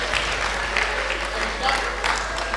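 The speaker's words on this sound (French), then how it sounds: "Applaudissez sans jalousie." Congregation applauding during a Wednesday church service, a steady bed of clapping with a voice speaking over it.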